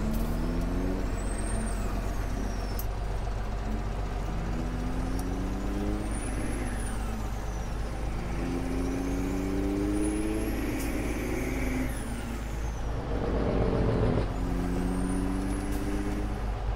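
A truck in Farming Simulator 17 drives with its engine droning loudly and steadily, gears rising in repeated climbing sweeps, while high hissing air-brake releases recur at regular intervals throughout.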